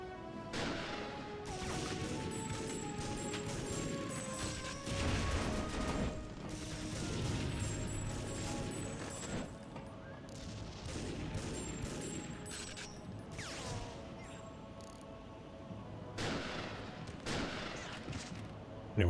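Dense gunfire and grenade blasts in the shooter game Timesplitters: Future Perfect, rapid volleys and crashing bursts continuing steadily throughout at moderate level.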